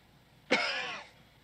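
A single short cough, close and fairly quiet, with a rough throat-clearing quality, from a man in a comedic scene, alone against near silence.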